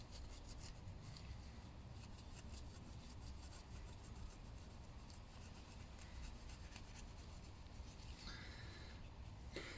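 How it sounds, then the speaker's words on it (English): Steady dry rubbing of Scotch-Brite abrasive pad polishing a Lister D diesel engine carburetor part, a continuous close scratchy scrubbing that runs without pause and with no talk. "Now I have to be careful when I'm polishing this not to polish the sealing surface"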